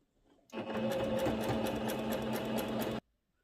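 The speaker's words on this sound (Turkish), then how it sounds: "Bu şekilde her iki tarafından da dikiyoruz." A sewing machine runs steadily for about two and a half seconds, stitching an elastic waistband on a tiered skirt, loud and close with an even whirring drone and no talk.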